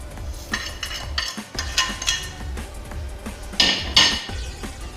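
Chicken is mixed with oil, spices and garlic paste in a metal bowl, giving close, irregular clinks, scrapes and wet stirring knocks with a few sharper metallic taps.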